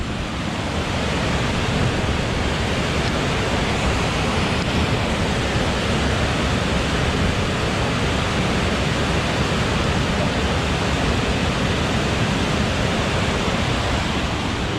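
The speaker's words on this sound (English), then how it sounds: "This is the Swinsty reservoir overflowing to its spillway" Water from the Swinsty reservoir overflowing down its spillway, a loud, steady, dense roar of rushing water that holds without pause and is heard alone.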